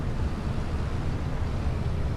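A tractor engine in Farming Simulator 25 drones at a steady low rumble, a constant dense hum with no talking over it.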